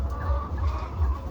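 Chickens in a poultry shed on a farm with laying hens cluck in a low, steady murmur from many birds close by. No one speaks.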